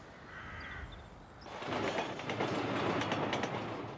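A train at a railway station in Kent rumbles in from about halfway through, its broadband roar and rail clatter rising over a quiet background, with a crow cawing faintly early on.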